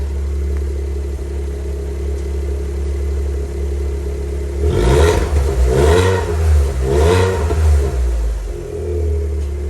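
A Land Rover Defender 90 engine idles with a low steady rumble, then revs in two or three throaty bursts before settling back to idle, loud and close.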